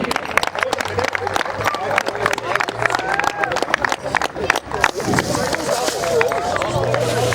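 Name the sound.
applause for an award presentation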